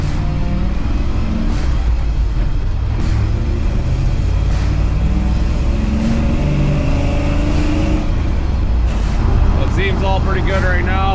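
An LS-swapped 1980 Chevrolet K10 squarebody truck drives along with a steady, deep engine rumble that rises slightly toward the end, while someone talks over it.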